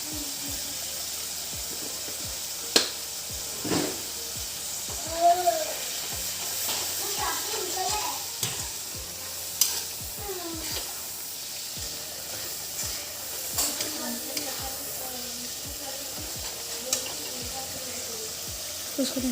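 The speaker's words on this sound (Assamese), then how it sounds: "এইখিনি চাওক মছলাটো এতিয়া ভাজি আছোঁ মই।" Ground masala with salt and red chili powder fries in a pan for dhaba-style bhindi masala, a steady close sizzle with scattered spatula scrapes and clinks against the metal, and occasional soft voice in the background.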